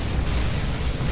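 A grenade goes off in the Dawn of War Retribution strategy game, a dense, rumbling blast with sustained low-end roar that fills the whole moment at close range, with no talking over it.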